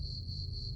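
Crickets chirp in a steady, continuous high-pitched trill over a low background rumble, with no pause across the short stretch.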